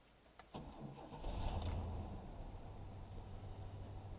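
A 1994 Chevrolet Blazer engine cranks with a short starter whir, catches, and settles into a steady idle nearby, with no one talking.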